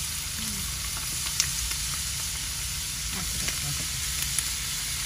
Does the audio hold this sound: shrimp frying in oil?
yes